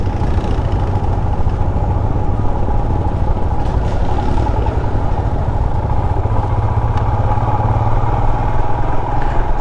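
Several Royal Enfield Himalayan motorcycles ride together along a mountain route, their engines producing a steady, loud, mid-pitched drone for the whole stretch with no talking heard.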